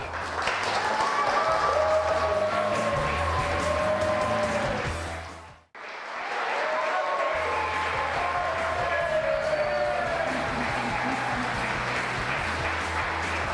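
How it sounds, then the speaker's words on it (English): A studio crowd at a sports talk show cheers and applauds loudly with shouts and whistles, dropping to a brief silence midway before the sustained noisy cheering resumes. "this crowd is fired up"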